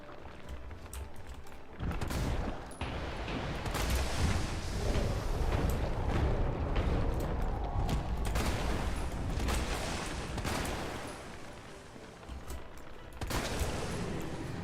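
Gunfire rattles in the video game Resident Evil 3 Remake, a dense, loud, sustained barrage of shots with bursts and rumbling impacts that runs almost unbroken through the whole stretch.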